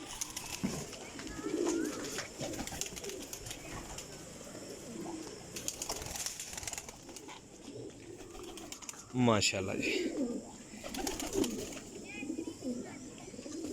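Pigeons cooing in soft, low bursts nearby, mixed with someone talking and occasional rustling and clatter.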